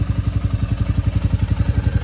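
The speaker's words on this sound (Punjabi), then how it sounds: "ਮੋਟਰਸਾਈਕਲ ਆਪਾਂ ਨੇ ਸਟਾਰਟ ਕਰ ਲਿਆ" A motorcycle engine idles close by just after starting, a loud, steady, rapid low thumping pulse with no talk over it.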